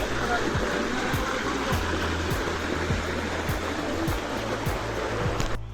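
Fast-flowing water at Khoiyachhori waterfall roars as a dense, steady rush close by, with a rhythmic series of faint thumps beneath it.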